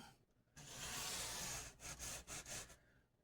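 Sandpaper rubbing across a Squier bass guitar build, one long steady scrubbing stroke followed by several shorter back-and-forth passes, close and fairly quiet.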